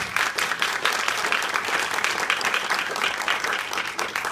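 Audience applause at a downtown St. Louis premiere of Mr. Handy's Blues, a dense, steady round of clapping from a crowd that holds throughout with a voice faintly underneath.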